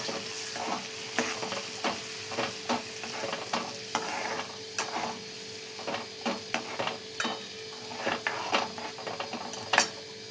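Ground peanut and dal paste frying in a pan with softened onion and tomato, sizzling steadily while a spoon scrapes and stirs in repeated sharp strokes, close up with no talking.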